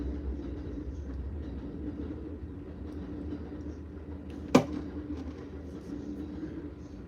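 An Amtrak train passes nearby as a steady low rumble that holds throughout, with one sharp metallic clank standing out partway through.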